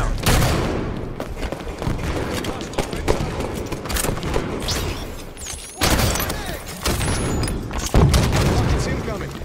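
Rocket fire and explosions in the video game Halo 5, with repeated loud blasts and bursts of gunfire through a dense, busy battle, sharp impacts near 6 and 8 seconds, and voices talking over the action.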